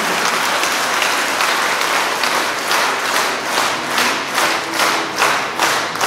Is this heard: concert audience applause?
yes